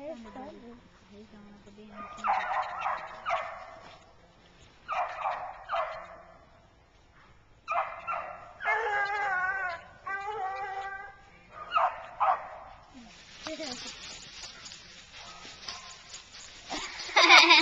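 Hunting dogs bark and bay in repeated bursts during a rabbit chase outdoors, with yelping calls at a moderate distance and quiet gaps between the bursts.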